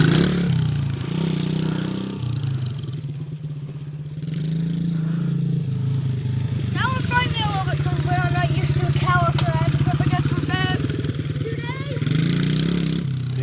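A dirt bike engine idles with a steady low drone, then picks up slightly with a rougher, rattling tone. Faint voices can be heard nearby.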